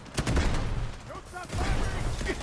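Rapid bursts of gunfire in the mobile game Delta Force crackle through the clip while a voice talks over them.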